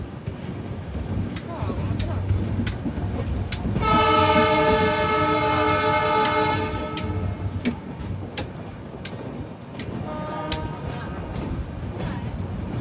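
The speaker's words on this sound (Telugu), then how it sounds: "వ్యాప్ 7 లోకోమోటివ్ ఫిల్ చేస్తుంది మన బండిని." A WAP-7 electric locomotive sounds a long, loud horn blast as a train enters Mathura Junction, followed by a shorter honk. Steady rumbling rail noise runs underneath throughout.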